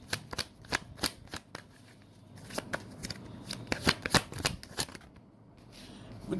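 Tarot cards being shuffled, a run of crisp riffling snaps and flutters in quick uneven bursts, close and clear, settling into softer handling near the end.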